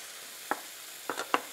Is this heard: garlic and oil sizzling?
yes